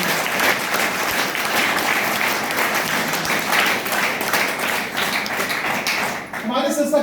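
An indoor audience claps with both hands at a business presentation, producing dense, sustained applause that runs loud and steady before cutting off abruptly into a brief voice at the end.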